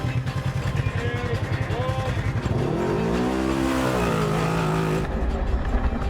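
A racing buggy accelerates hard off the start line, its engine revving loudly and rising in pitch, with other engines roaring nearby.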